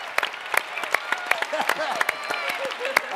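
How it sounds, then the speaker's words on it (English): Audience applause for a student reader in a classroom, a burst of clapping mixed with children's excited voices and chatter. "give her a round of applause"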